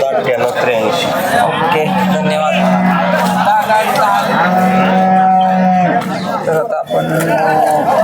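Cows at a village cattle market in the rain moo loudly and nearby in several long, sustained calls over busy crowd chatter and talk.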